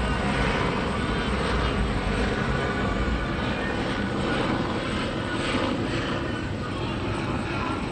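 A camera drone flies overhead at an immigration protest in Austin, Texas, giving a steady, close, continuous whirring roar that stays even throughout.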